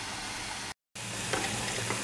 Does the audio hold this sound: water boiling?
yes